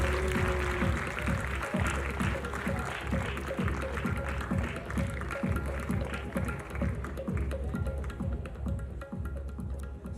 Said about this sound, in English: Everybody in the house, let's have a huge round of applause.